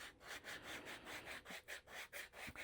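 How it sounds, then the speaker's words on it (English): A block rubbed back and forth against sandpaper while flattening sharpening stones makes steady rasping strokes, about ten in a regular rhythm, close and fairly quiet with nothing else over it. "Rub it a few times against the sandpaper."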